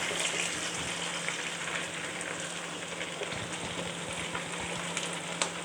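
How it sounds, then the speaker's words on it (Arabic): Onions frying in ghee in a pot hiss and sizzle steadily while being stirred, with occasional scraping and soft clinks rising above the constant crackling. "هنسيبها كده تاخد صدمه مع السمنه والبصل ونقلبها. هنديها تقليبه كده."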